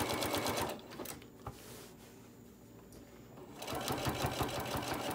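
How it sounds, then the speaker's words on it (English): Sewing machine stitching along the edge of a fabric mat, a close rapid mechanical whirr that runs, stops for about three seconds of quiet, then starts again. "You can hear the machine because it's having to do extra duty"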